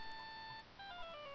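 Phone ringtone in the Phoenix Wright: Ace Attorney Justice for All video game, a bright electronic ring in two bursts with a short gap between, clear and alone.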